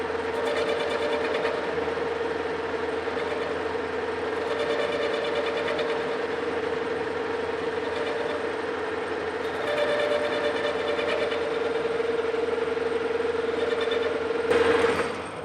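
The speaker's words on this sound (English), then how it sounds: "So let's fire up the lathe." A metal lathe runs while facing the end of a hard chrome-plated steel rod, giving a steady mechanical hum with a constant tonal whine and faint periodic ticking, moderately quiet and continuous, with a small clatter near the end.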